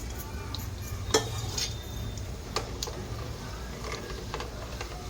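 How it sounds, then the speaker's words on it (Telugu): Mustard seeds, urad dal and chana dal fry in hot oil as a tempering for gongura pachadi, giving a steady, close crackling sizzle with a few sharp pops and light metallic clinks of a pan. "ఈ పోపు అంతా బాగా ఫ్రై అవ్వాలి."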